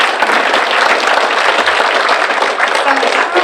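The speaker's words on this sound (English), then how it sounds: "Can we give them one more round of applause?" Breakfast event audience at a chamber of commerce gathering applauding a sponsor, steady dense clapping filling the room throughout at a constant loud level.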